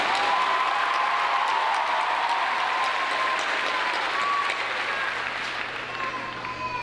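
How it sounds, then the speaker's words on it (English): Applause from a large crowd at a 2022 high school graduation ceremony for the class sponsors: a dense, steady wash of clapping that holds at full strength for several seconds, then eases slightly toward the end. "let's give them a round of applause."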